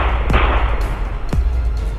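Two sharp gunshot sound effects crack out about a second apart, each a sudden loud blast with a booming tail over a dense rumbling background, no voices present.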